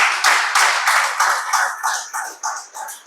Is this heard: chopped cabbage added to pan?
no